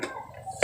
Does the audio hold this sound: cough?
yes